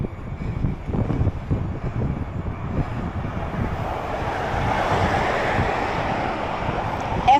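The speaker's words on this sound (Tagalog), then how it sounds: "medyo malakas ang hangin" Steady, loud wind buffeting the microphone while riding an electric bike, with a continuous roar and rumble, swelling slightly toward the end.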